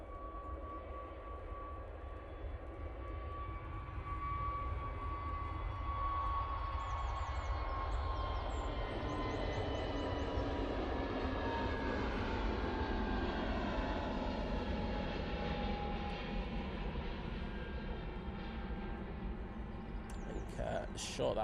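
An easyJet jet airliner on its takeoff roll at Manchester Airport, a continuous engine roar with a rising whine, steady and fairly distant, building slightly after the first few seconds.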